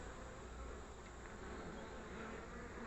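Honeybees buzz steadily and densely around a hive frame pulled from a split colony, a continuous close swarm drone growing agitated, with no talking.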